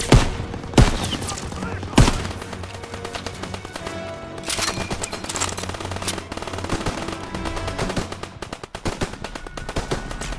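Machine gun fire in the Call of Duty: WWII video game, sustained rattling bursts with sharp loud shots throughout, a fusillade from a hayloft position mixed with battle noise and brief shouted callouts.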